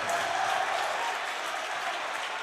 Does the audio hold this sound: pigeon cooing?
no